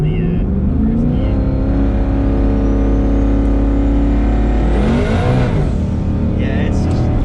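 A twin turbo Coyote-powered S550 Mustang roars loud and close from inside the car, its engine revving hard with steady harmonic drone, pitch sweeping up before a shift-like dip near the end, while a voice speaks under the engine noise.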